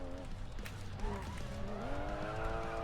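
A racing car in the video game Racing Master taking an S-bend, engine whining through shifting pitch with tire squeal and skidding as it drifts, heard close and continuous under excited talk.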